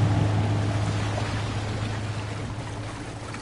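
Boat pushing through water in Modern Warfare II, a steady dense wash and rushing spray with a low motor drone underneath, constant and fairly loud throughout.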